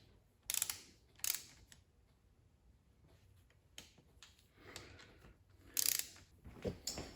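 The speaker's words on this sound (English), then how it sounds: "Now we can go ahead and torque all of the bolts that we installed here, the 8mm bolts, to 90 inch-pounds." A torque wrench tightens 8mm bolts to 90 inch-pounds on a Mustang transmission during a rebuild, giving a few sharp, close clicks at irregular intervals against a quiet workshop background, with no talking.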